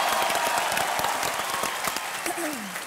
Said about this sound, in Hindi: तो इस बात पे जोरदार तालियां।